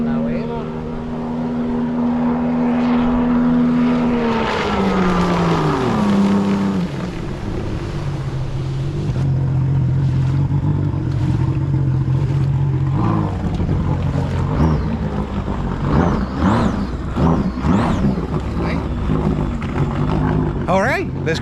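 A 2017 Sea-Doo RXT-X jet ski with a Rotax engine rides on open water, its steady droning engine note rising in pitch as it gains speed, with people talking over it throughout.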